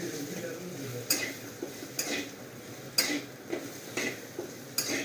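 A spoon stirring potato rice in a pan, with several distinct metallic clinks and scrapes against the pan spaced about a second apart over a soft background, close by and moderately quiet.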